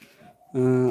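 A single short sheep bleat, loud and close, with a steady harmonic tone lasting under half a second.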